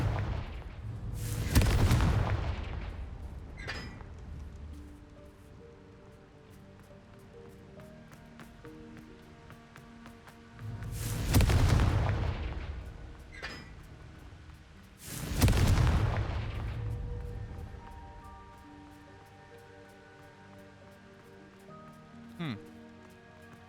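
Three loud, booming Confringo fire-spell explosions from Hogwarts Legacy, each a sharp blast that rumbles and decays over a few seconds, spaced apart with quieter crackling ambience between.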